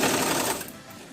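A sewing machine stitches a blouse in a short, close, steady whir that fades slightly toward the end.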